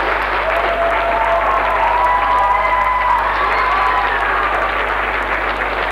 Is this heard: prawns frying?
no